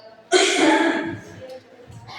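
A teacher gives one sharp, loud cough in a classroom, a forceful burst trailing off over about a second, followed by quieter room sounds and faint rustling.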